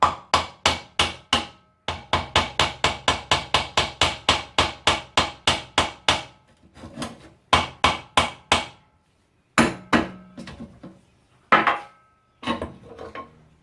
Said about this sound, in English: That actually is seized on. Okay, time for a hammer.